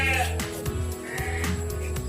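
Sheep bleat over and over on an Indonesian smallholder farm, a flock of several animals calling close by in overlapping, wavering cries with no one speaking.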